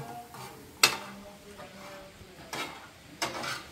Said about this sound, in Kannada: ಫಸ್ಟ್ ಕೊಬ್ಬರಿ ಹುರ್ಕೊಳಾಗುತ್ತಾವೆ ನಮಗೆ, ಒಣ ಕೊಬ್ಬರಿ